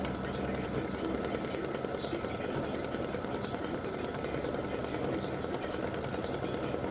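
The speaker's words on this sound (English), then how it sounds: "So this is going to go through and do all the satin stitching" An embroidery machine sews satin stitches over an applique, a fast, continuous mechanical whirring and needle rattle that holds steady and close for the whole stretch, with no voices.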